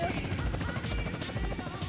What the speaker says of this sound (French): on a un hélicoptère, c'est marqué News dessus, donc c'est un hélicoptère de journal télévisé